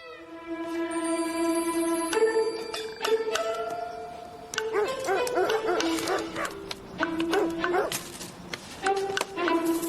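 A dog barks repeatedly in a period drama scene, the barks coming in uneven bursts mixed with tonal, whining sounds, fairly close and with no speech over them.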